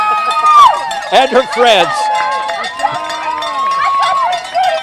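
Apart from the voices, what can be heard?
spectators cheering marathon runners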